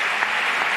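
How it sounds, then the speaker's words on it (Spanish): Audience applause for musicians at an Aragonese film awards ceremony, a short, even burst of clapping at moderate loudness. "de aquí quiero de verdad un fuerte aplauso para esta gente"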